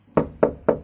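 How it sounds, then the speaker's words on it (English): Three firm knocks on a wooden door sound close and evenly spaced, with nothing else heard. "so I knocked again"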